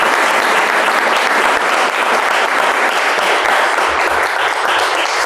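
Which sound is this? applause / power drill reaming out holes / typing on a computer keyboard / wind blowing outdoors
applause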